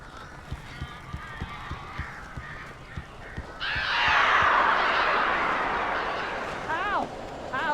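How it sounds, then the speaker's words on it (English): Strange honking birds inside a cabin in the video game Alan Wake, a series of harsh, wavering calls rising near the end over steady rhythmic background sounds, with a voice speaking earlier. "These birds are weird."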